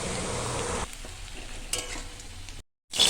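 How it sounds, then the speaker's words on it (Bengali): Garlic frying in hot oil in a wok, a bright steady sizzle with stirring scrapes, then a brief silence and the sizzle returning; no speech. "ওই তেলেই রসুনগুলোও ভেজে নেব"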